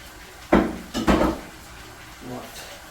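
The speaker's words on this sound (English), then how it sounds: "We just take off the lid." A lid lifted off a pot of South African waterblommetjie stew with meat, giving a couple of close metallic clanks and scrapes, followed by softer handling; a voice talks quietly nearby.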